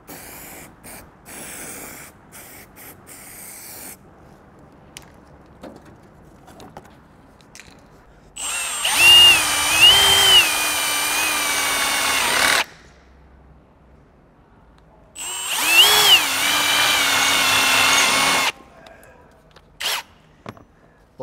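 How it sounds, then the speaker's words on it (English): Power drill boring holes into the pillar of a Ford Next Gen Ranger during a snorkel install, two loud sustained high-pitched whirring bursts of about four seconds each, separated by quieter handling clatter. "while you're drilling and nutserting the pillar"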